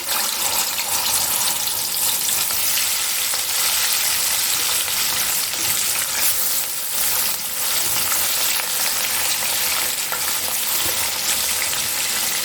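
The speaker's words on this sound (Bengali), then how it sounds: "তেলটা প্রায় গরম হয়ে গেছে। এবার আমি মাছগুলো ছেড়ে দিচ্ছি।" Pieces of rohu fish fry in hot oil in a loud, dense, continuous sizzle that crackles close up throughout, with no voices.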